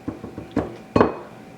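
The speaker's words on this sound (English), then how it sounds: "Then I'll stir everything together" A spoon knocks and scrapes around a bowl while brown sugar mixture is stirred, a handful of close, sharp clinks in quick succession, the last one the loudest, with no talking.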